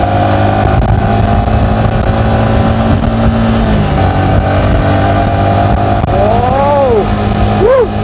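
A Yamaha XSR 155 motorcycle on a test ride gives a steady, loud engine drone that runs the whole time. Near the end the pitch sweeps up and down as the throttle is briefly opened.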